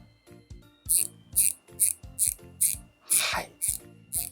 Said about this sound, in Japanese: 90ギアのラチェットハンドルなんですね。